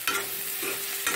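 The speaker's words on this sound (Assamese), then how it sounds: "আলু পিঁয়াজ আদা নহৰু ভাজি আছোঁ" Potatoes, onion, ginger and garlic frying in a pan, giving a steady close sizzle with brief stirring scrapes at the start and end.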